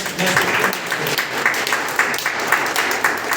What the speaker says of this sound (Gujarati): આ સ્ટેજ માટે જબરજસ્ત તાળી લઈ